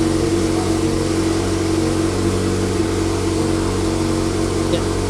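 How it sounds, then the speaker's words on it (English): A stage two tuned McLaren 720S engine drones steadily and loudly at a constant pitch, close up from inside the car, with a rich, buzzy hum throughout and no clear rise in revs. "So let's get in and fire this machine."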